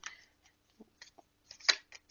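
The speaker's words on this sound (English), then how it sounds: "They're pretty easy to shuffle." Soft papery riffling and flicks of tarot cards being shuffled, brief scattered bursts close by in a quiet room.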